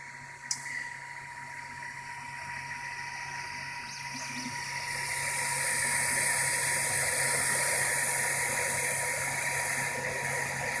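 An Elecfreaks Freaks3d 3D printer runs a print of a bag holder, producing a continuous mechanical whir with a steady tonal hum and stepper motor whine that grows slightly louder midway, with one sharp click near the start.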